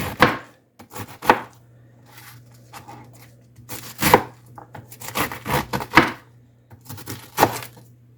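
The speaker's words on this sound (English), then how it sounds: "So you can cut your cabbage in any shape or size you want." Knife chopping cabbage on a cutting board, bursts of crisp close cuts, some single thumps and some quick runs of several strokes, separated by short quiet pauses over a faint low hum.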